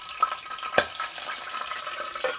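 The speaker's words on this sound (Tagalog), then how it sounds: "Tumatalsik yata yung mantika." Chopped onion dropped into hot cooking oil, giving a brief sizzle with a few sharp spattering pops close by.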